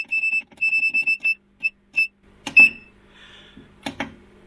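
A VEVOR 3000 W 12 V inverter emits a series of short, sharp, high electronic beeps in quick rhythmic bursts, followed by a few clicks and handling noises, close and clear.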